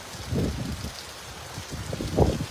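Steady rain falls in Solapur during a stormy, windy spell, a soft continuous patter on surfaces with no voices.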